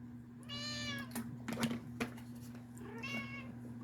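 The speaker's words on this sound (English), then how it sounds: "my cat has got something to say as well." A pet cat meows twice nearby, a drawn-out cry followed by a shorter one, with soft rustling between the calls over a low steady hum.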